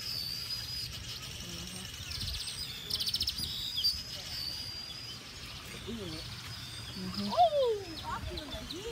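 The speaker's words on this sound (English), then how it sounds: "You can hear the birds." Birds chirp and call intermittently in the open air in Punta Cana, Dominican Republic, near a pond with ducks and coconut palms, with scattered bright tweets over a steady outdoor background and some faint voices.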